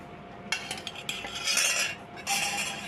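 A metal spoon scrapes and clinks against a bowl, mixing cottonseed oil into dry spices for storage, in a few sharp taps followed by a steadier scraping, close and clear with no talking.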